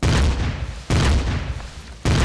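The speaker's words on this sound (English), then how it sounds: "What tech demo isn't complete without explosions?" Heavy, close explosions in the game Empyrion Galactic Survival, three sharp booms roughly a second apart, each followed by a thick rumbling tail.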